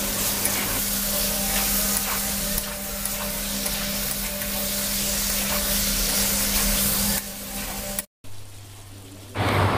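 Jackfruit and chicken stir-frying in a pan over a high flame, a steady loud sizzle and hiss running almost the whole time, then cutting off briefly before a quieter stretch.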